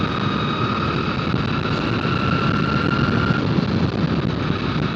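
A superbike ridden at a gentle pace produces a steady, continuous engine drone with wind rush, loud and constant throughout with no talk.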